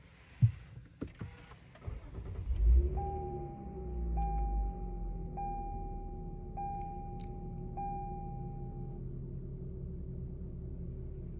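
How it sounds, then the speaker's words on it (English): A 2021 Lexus IS350 F Sport starting up: a few clunks and a brief crank give way to a steady low engine idle, while a soft chime repeats at even intervals over the hum. "Let's go ahead and start the vehicle."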